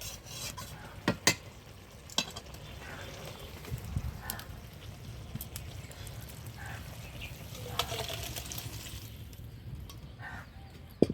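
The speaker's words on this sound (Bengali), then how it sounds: "আমি নেড়ে চেড়ে নামিয়ে নেব" A spoon scrapes and rubs through a prawn and home-grown bean curry in a pan, quiet irregular scraping strokes with a few sharper clicks, and no one speaks.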